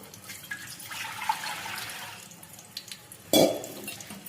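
Water from a pot pours into a cooking vessel while making egg curry, a soft running trickle building through the middle and ending in a brief louder splash near the end.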